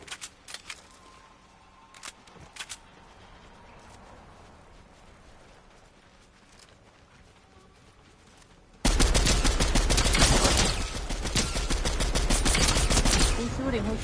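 Video game gunfire, first as scattered sharp shots at a distance over a quiet background, then a sudden loud, sustained rapid burst of close automatic fire.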